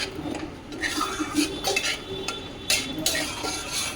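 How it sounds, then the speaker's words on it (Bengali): Spiced curd masala is stirred and fried in a pan over a medium gas flame, with a spoon clattering and scraping in repeated strokes above a faint, steady sizzle. "এটা দিয়ে গ্যাসের আঁচটা একদম মিডিয়াম করে এটাকে কষতে হবে নাহলে দইটা কেটে যেতে পারে"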